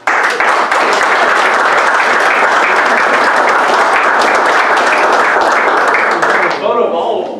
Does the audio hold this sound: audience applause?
yes